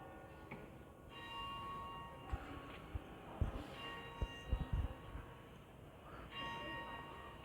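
Church bells ringing somewhere in Peterborough city centre near Queensgate shopping centre, a faint distant peal of tones over outdoor street ambience with a few nearer knocks and thumps.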